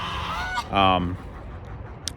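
Farm geese give a loud, nasal honk with a brief lead-in call, heard close by over steady background noise.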